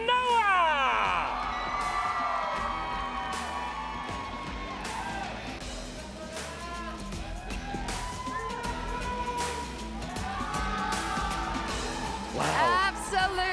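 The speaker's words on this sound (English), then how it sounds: "Absolutely wicked crowd." Loud crowd cheering and shouting at a Mobile Legends esports grand final, sustained roaring throughout under commentator speech, with a swell of excitement near the end.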